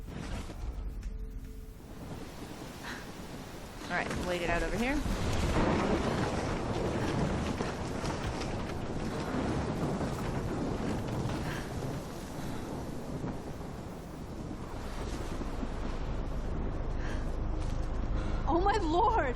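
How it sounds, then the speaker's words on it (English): A fierce storm in Life is Strange, set in Oregon, with constant roaring wind and low rumbling thunder building in waves, heard under intermittent speech. "I've never seen a storm like this in Oregon."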